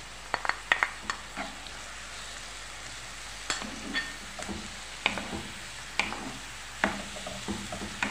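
Garlic fries in a pan with a faint continuous sizzle, punctuated by sharp clicks and scrapes of a utensil stirring against the pan at irregular intervals.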